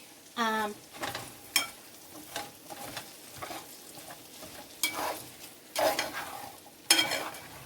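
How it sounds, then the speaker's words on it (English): Cabbage being stirred in an oiled pan for traditional Irish colcannon: a series of uneven scraping, shuffling stirs over a low sizzle, with a few louder bursts spaced across the stretch, close and fairly quiet. "You give this a good stir around. Get the cabbage all soaked in that."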